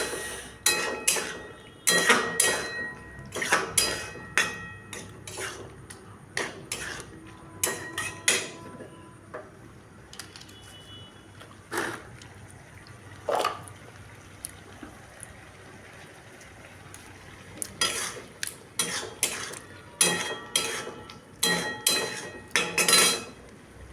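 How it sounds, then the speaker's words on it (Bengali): Peas are stirred in a pan while cooking a ghugni curry, a spoon scraping and clinking against the metal in irregular bursts of knocks and taps, fairly close, with quieter pauses between strokes. "এবার মটর দিয়ে দিলাম, একটু কষাতে থাকুন।"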